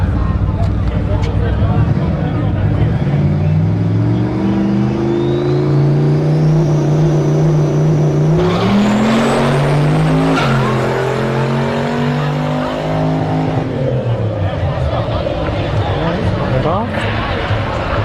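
A Nissan GT-R drag race car roars at a no-prep drag strip, loud and continuous. The engine climbs in pitch through several gear changes with a brief tire squeal, under a voice on a crowd PA.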